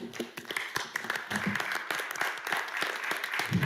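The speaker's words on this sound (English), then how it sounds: "Let's give a round of applause again." Audience at a city board meeting giving a round of applause, steady moderate clapping from a roomful of people, somewhat distant, with little talk over it.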